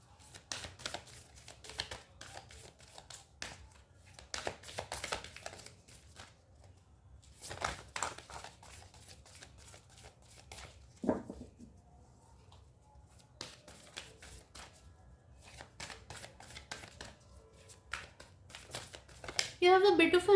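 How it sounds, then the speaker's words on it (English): Tarot cards being shuffled in repeated quick bursts of soft papery clicks and riffles, separated by short pauses, fairly quiet and close, with faint talk in the background. "even when I'm shuffling your cards, it's not like I'm in a rush"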